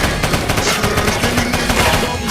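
Rapid automatic gunfire rattles nonstop in a Minecraft game, a dense burst of loud, evenly spaced shots filling the whole stretch without pause.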